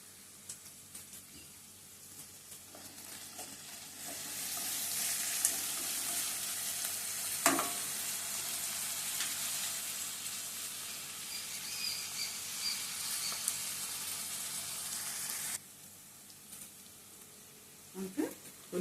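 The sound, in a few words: onion pieces frying in a pan for prawn biryani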